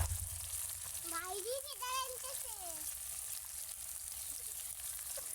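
Masala paste with salt and turmeric sautéing in oil for quail curry, a steady sizzle throughout with a voice speaking over it in the first half.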